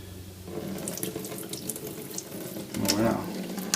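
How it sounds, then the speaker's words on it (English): Dirty water pours and splashes out of the tank of an iRobot Scooba 230 floor-washing robot, a steady nearby gush into a sink that swells louder toward the end. "Let's see if we can empty this out without breaking it."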